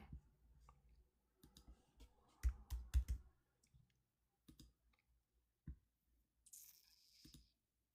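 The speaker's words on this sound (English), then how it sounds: "We'll just type it in." Computer keyboard keys click in short irregular bursts, close and fairly quiet, with pauses of near silence between the groups of keystrokes.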